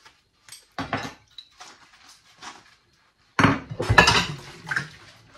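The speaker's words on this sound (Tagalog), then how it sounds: "Maghugas muna ako ng mga plato" Plates and dishes being washed by hand, clinking and clattering in two close bursts, a short one early and a longer, louder run of knocks and scrapes later, with quiet gaps between.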